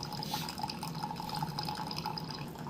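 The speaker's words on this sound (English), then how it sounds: "So this is a very simple Keurig." A simple Keurig coffee maker brews, giving off a quiet, steady trickle and drip of liquid with faint bubbling pulses, close and low in level, with no one speaking.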